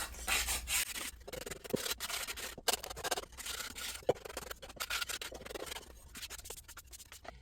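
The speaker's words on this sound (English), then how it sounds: "we can take this sandpaper and I'm just going to go over the edges just slightly and the corners" Sandpaper is rubbed lightly over the edges and corners of a wooden hanging shelf, making close, uneven scratchy strokes with short pauses between passes.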